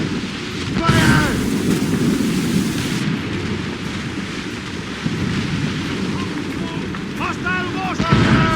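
Mortar fire in a naval battle in Assassin's Creed Rogue: heavy booms and rumbling blasts over a continuous roar of battle noise, with shouting voices cutting in near the start and end.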